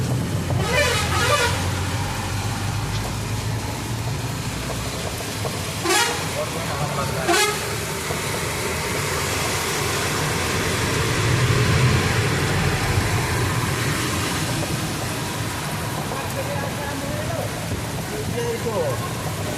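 Cars and other vehicles pass an e-rickshaw (toto) on a rain-soaked road, with steady road noise and rain hiss throughout and a couple of short horn toots, and voices talking nearby.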